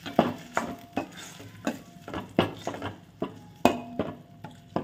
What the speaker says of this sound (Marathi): आता आपण हे जे वाटण केलेले आहे ते ह्यामध्ये मिक्स करू आणि व्यवस्थित मिक्स करून घेऊया।